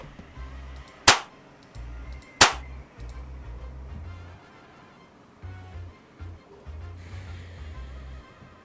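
Two sharp explosion sound effects from a video game in development, each a brief broadband burst about a second apart, set over a looping low game music track and a later hiss of water-like ambience.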